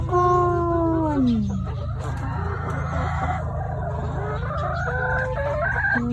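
A rooster crows in the morning, loud and close, with one long drawn-out crow at the start and another rising call near the end over a steady low background hum.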